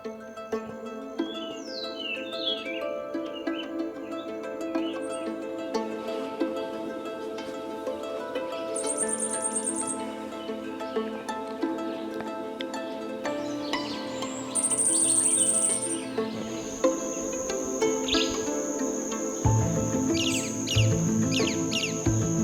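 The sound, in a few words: tropical jungle birds singing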